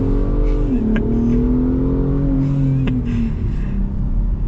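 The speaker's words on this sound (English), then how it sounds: "I know some people aren't super fond of the twin turbo V6, but I love the sound of it." Ford Raptor twin-turbo V6 accelerating hard in sport mode, a loud close engine roar rising in pitch, with a brief dip and crackle at a gear change before climbing again.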